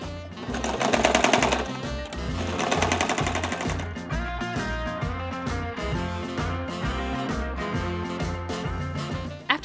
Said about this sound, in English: I sewed both pieces together along the bottom edge and then flipped everything right side out